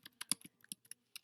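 Quick, faint clicks of computer keyboard typing, about a dozen irregular keystrokes in a short burst, heard alone and close.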